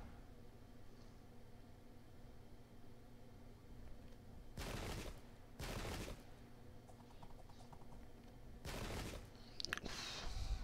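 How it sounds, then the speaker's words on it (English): Musket volleys from the strategy game Pike and Shot crackle as three separate broadband bursts, each lasting under a second, rising over a low steady battlefield hum at modest volume. "these guys are going to get shot up"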